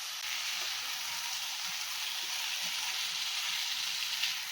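Spices and garam masala frying in oil for a Bengali chicken and potato curry, a soft, even sizzle held steady throughout, with faint low stirring thumps beneath.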